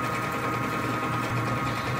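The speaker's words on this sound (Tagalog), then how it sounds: "Ito po ang kanyang printer head." DTF printer head shuttling back and forth in a print shop, a steady mechanical whir with a fast rhythmic chatter, close and continuous, no voices present.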